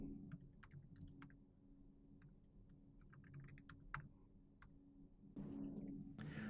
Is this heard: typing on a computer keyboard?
yes